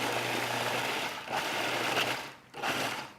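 A food processor chops peppers in short bursts, loud and close, with its motor whining through a few pulses separated by brief dips.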